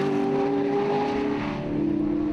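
MG race cars with 3.9 litre V8 engines drone steadily at close range on the Donington Park circuit, a sustained whine with a slight pitch shift as the cars pass by.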